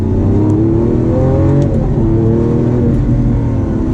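A Lamborghini Aventador revs hard and loud up close, its engine note climbing and dropping through abrupt single-clutch gear shifts, including a downshift, in a steady unbroken roar.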